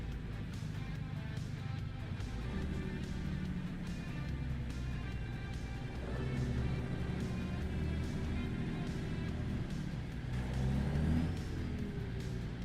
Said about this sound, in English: This truck is so loud comparative to the 389.